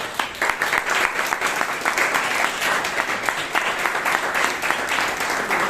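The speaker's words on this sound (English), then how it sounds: "let us have a round of applause for the VP Education person to take it up" Sustained applause from a Toastmasters meeting audience in Bangalore, dense steady clapping filling the room from start to finish with no speech over it.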